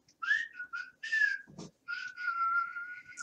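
R2-D2, the Star Wars droid, lets out a string of electronic whistles and chirping beeps in several quick bursts, with a sweeping tone near the end, close and clear with no talk.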